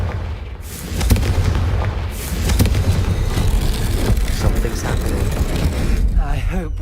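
Confringo spell explosion in Hogwarts Legacy: loud, rumbling booms and crackling bursts fill the scene, with sharp transient hits near one and two and a half seconds over a sustained roar, and voices chattering in the background.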